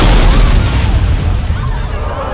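A loud, deep explosion of a charter boat blown up with C4 near Chelsea Piers, a sustained booming roar that fills the whole moment without letup.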